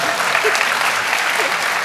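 Brief burst of audience applause at a film festival Q&A, steady, dense clapping filling the whole moment with no speech over it.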